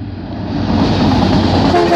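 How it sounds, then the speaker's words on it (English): A Union Pacific locomotive on a light-engine power move sounds its horn, a loud sustained tonal blast that swells and holds steady over rumbling engine noise close by. "Hoping it'll honk."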